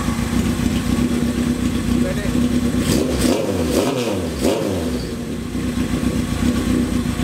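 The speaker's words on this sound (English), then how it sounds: "I know the engine's dead sound, it runs as sweet as anything, albeit noisy." A Kawasaki KZ650 motorcycle engine idles with a noisy but steady note, then is blipped through several sharp revs that rise and fall before settling back to idle. A voice speaks briefly.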